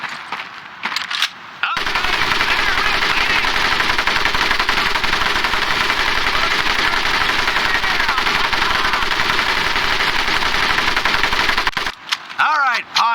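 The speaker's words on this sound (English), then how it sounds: "M1919A430 caliber machine gun." Sustained automatic bursts from an M1919A4 .30 caliber machine gun in the Pacific-theater shooter Medal of Honor Pacific Assault, a dense, loud, unbroken rattle lasting about ten seconds, with brief voices and effects before and after.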